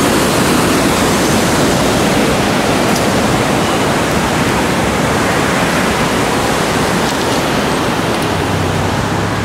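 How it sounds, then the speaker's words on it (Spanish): Water flowing in a stream makes a steady, loud, broadband rush that stays unchanged throughout, with no voices. "del agua pasar"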